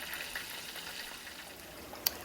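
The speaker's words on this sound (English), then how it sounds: "I'm going to be frying this fish" Fish frying in a skillet, a steady broadband sizzle of hot oil held at a moderate level throughout, with a brief sharp pop near the end.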